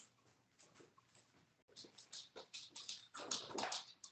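A pet dog indoors gives a run of short whimpers and snuffling yips, quiet at first and then growing louder and closer in quick bursts.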